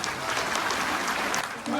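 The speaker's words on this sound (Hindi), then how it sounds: "थोड़ी आगे तालियां बजा लीजिए" An audience claps after a Dogri dance performance at a World AIDS Day event in Jammu, producing a brief burst of steady, close applause with a voice faintly mixed in.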